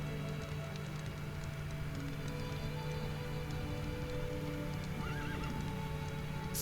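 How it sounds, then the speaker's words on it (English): Minecraft horse whinnying with rising neighs near the end over steady clip-clop of hooves, set against a constant low game ambience with faint rain-like patter; no talking. "Horse."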